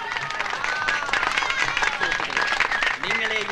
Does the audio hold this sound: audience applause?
yes